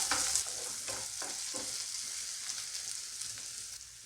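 Onion, garlic, cinnamon and cloves fry lightly in a pan, giving a steady, soft sizzle with a few stirring scrapes near the start, quiet and close, with no talking.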